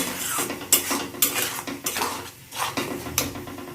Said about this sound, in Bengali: এখন মশলাটা ভালো করে কষিয়ে নিই তেল ছাড়া পর্যন্ত